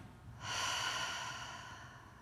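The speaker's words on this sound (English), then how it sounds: "A final deep breath in and out your mouth" A single deep breath drawn in and let out through the mouth, a close, airy exhale that swells and then slowly fades, with no talking.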